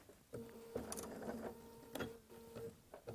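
A sewing machine stitches two fabric pieces together, running in short bursts with brief pauses between them as it back stitches and then continues along the seam. The whirring is moderately loud and close, with no voices over it.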